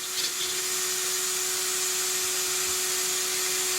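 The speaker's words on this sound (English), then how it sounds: "You can see that fan is running really fast." Small cooling fan on an MST RMX 2.0 S RC drift car spinning fast, a steady high whine with a constant tone that stays alone and unchanging for a few seconds.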